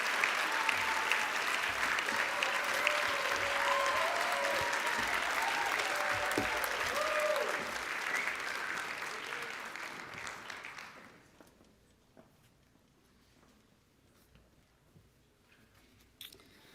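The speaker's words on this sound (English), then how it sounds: "join me again, in recognizing this outstanding achievement with a round of applause" Applause from the audience at a Hofstra University physician assistant white coat ceremony, welcoming new Pi Alpha National Honor Society members; a dense, loud round of clapping that holds steady, then tapers and dies away, leaving a quiet room.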